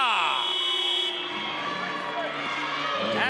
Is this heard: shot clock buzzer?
yes